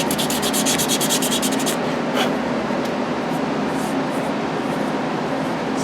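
Sandpaper rubs steadily along a wooden Native American flute to clear the scratches left by 80-grit paper, a continuous close abrasive hiss with faster strokes early on and a single louder swipe.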